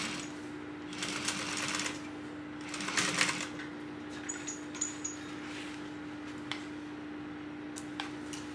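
A sewing machine stitches the side seam of a tote bag in two short quiet runs, followed by scattered light clicks and taps; no talking.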